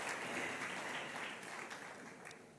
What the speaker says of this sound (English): Another resounding round of applause for him.